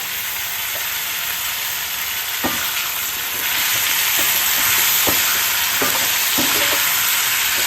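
Fish curry with sweet pumpkin sizzles steadily in a pan as it is sautéed and stirred, a close, continuous hiss broken by sharp scraping clicks of the spoon, growing slightly louder midway, with no talking.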